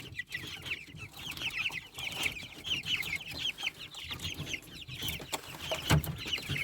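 A flock of young chickens clucking and peeping continuously, close by, with scattered rustling and a soft thump near the end.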